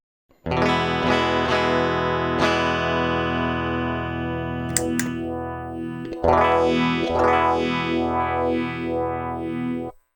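Electric guitar run through a Dot On Shaft E20PH phaser pedal: loud strummed chords ring out one after another, then a sustained chord swirls with a slow, sweeping phase whoosh, with no voices.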